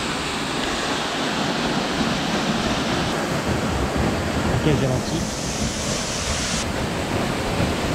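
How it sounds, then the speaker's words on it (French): A waterfall in the Cantal, France, on a hike in volcanic mountain country, roars as a steady broadband rush with wind buffeting the microphone, while a voice speaks briefly over it. "Le bruit derrière moi, c'est une cascade."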